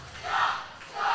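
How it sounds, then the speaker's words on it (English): Wrestling crowd at an indie show chanting a referee's name in rhythmic swells, two loud surges of massed voices filling the hall, with no commentary over them. "Listen to that crowd. They're chanting the American Treasure's name."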